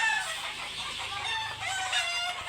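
Many chickens cluck and squawk at once in a dense, constant chatter, loud and close inside a poultry house among a large flock.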